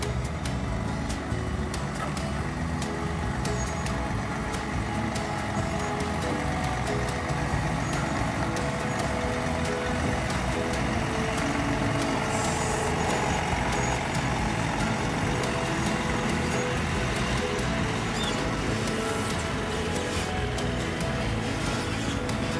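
Heavy trucks queue across the full width of a bridge under construction in the Brazilian sertão, a continuous dense rumble of idling diesel engines with occasional hissing and clanking, steady and close throughout.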